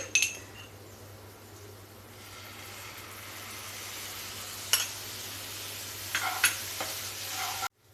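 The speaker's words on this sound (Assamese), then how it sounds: "এতিয়া এইখিনি মই ভালকে ফ্ৰাই কৰিম এতিয়া মই ইয়াতে অকমান পানী এড কৰিম" A spice mixture fries in a pan for kumro bhapa, a pumpkin dish, giving a soft sustained sizzle with a few sharp clinks and scrapes of stirring, then a brief louder hiss near the end as a little water goes in.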